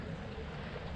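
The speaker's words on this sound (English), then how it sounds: "It's really windy, 40 k's an hour." Strong wind at an outdoor fishing spot, around 40 km/h, buffets the microphone with a steady, loud, low roaring rumble.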